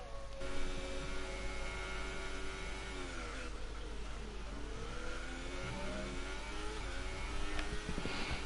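Racing car engine in a racing video game during a Grand Prix at Azerbaijan, droning steadily as tyres are warmed, with pitch sliding up and down through revs over a constant low hum, no talk.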